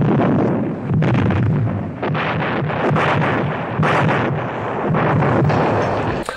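Heavy artillery bombardment in the war film The Longest Day, a continuous roar of repeated booming blasts with wind-like rumble, loud and sustained without speech.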